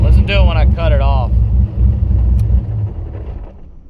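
Turbocharged nitrous LS-swapped Miata idling with a loud deep rumble that gradually fades, while someone talks briefly over the first part.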